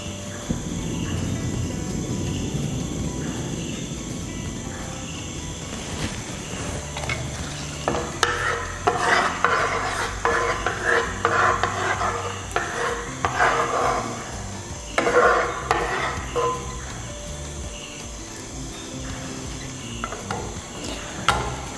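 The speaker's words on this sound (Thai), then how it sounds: "เมื่อกะทิของเราเริ่มเดือดนะครับ" Coconut milk for pork panang curry simmers over medium heat in a pan, with a spoon stirring and scraping against the metal in bursts of clatter above a steady background hum.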